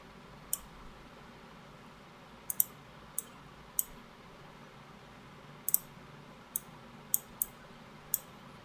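A computer mouse clicks in the Eclipse editor while a new Java project is set up: a scattering of sharp, isolated clicks, some in quick pairs, over a faint, quiet background hiss.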